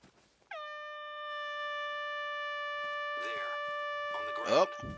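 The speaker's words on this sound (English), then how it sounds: "An air horn app." An air horn app blares in the hunting game theHunter: Call of the Wild, one long sustained steady tone held for several seconds, loud and close, with a brief voice chiming in near the end.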